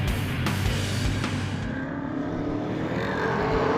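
Saloon race cars roar together at Riverside Speedway, a steady, broad engine rumble with faint passing swells as the pack gets underway.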